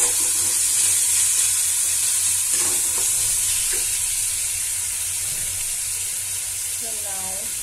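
Ginger, garlic and onion frying in a pan for homemade momo filling, a steady close sizzle with occasional stirring scrapes and a brief water sound near the end.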